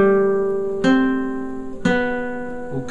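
A guitar plays Happy Birthday slowly, with single plucked notes about a second apart ringing over softer sustained tones, close and clear with no talking.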